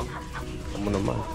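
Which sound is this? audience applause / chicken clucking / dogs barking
chicken clucking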